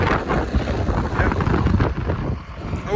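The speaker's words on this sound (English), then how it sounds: "Oh, it's a bit windy." Wind blows across an open hay field during tedding, making loud, gusty rumbling buffets against the microphone that keep rising and falling for a few seconds, with no talk over them.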